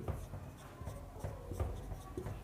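Chalk or marker scratching across a board while a chemistry problem is worked out, a series of short, irregular strokes at moderate distance, alone without talk.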